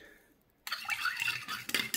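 A spoon clinks and scrapes against a glass while lemon juice and black salt are stirred into lukewarm water, a quiet pause followed by close, rapid metallic tapping.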